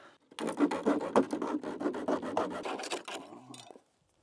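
A blade cuts through corrugated clear plastic roofing sheet with a rapid series of raspy, scratchy strokes. The strokes are close and moderately loud, run for about three seconds, then fade out.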